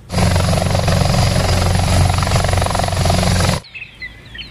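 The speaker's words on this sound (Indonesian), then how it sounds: "Wow, ada juga helikopter tentara." A loud, steady toy military helicopter rotor drone thrums close by, then cuts off abruptly, leaving faint background noise.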